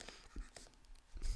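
Pen writing on paper while working a probability maths problem, a few short scratchy strokes close by and quiet, with no talk.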